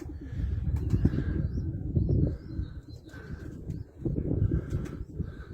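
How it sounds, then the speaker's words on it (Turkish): Soft, low cooing of tumbler pigeons repeats in steady phrases, with occasional faint chirps and light rustling nearby. "Kuşlar bu tarafta uçuyor sevgili dostlar."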